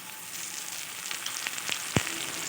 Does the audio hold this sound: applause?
no